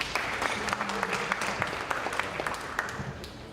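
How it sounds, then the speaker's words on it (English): An audience at a high school athletic awards ceremony applauds steadily, a dense wash of clapping with scattered sharper claps throughout. "then you can give them a round of applause"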